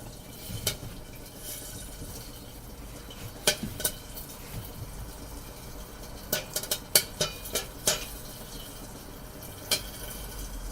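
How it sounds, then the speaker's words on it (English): Popcorn popping in an antique-style kettle popper, scattered sharp pops and kernels clattering onto a metal serving tray over a steady hiss, irregular and moderately close. "when it's popping, you can actually hear the popcorn being thrown out of the kettle"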